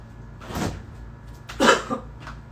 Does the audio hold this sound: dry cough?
yes